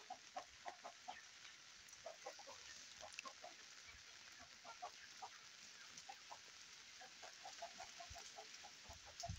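Farmyard chickens cluck and call in short, scattered bursts through steady falling rain, the birds close by and moderately loud over the constant hiss of the downpour.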